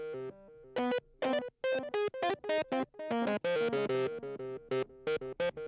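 A Roland Juno-X synthesizer plays its Shredder Split patch, a distorted, buzzy lead that fires off rapid stabbed notes and short melodic runs, loud and close, with no talking.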